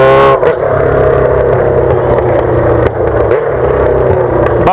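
A pink Yamaha XJ6 motorcycle with an aftermarket exhaust pipe roars loudly and steadily close by, its deep engine drone holding throughout with a couple of brief dips.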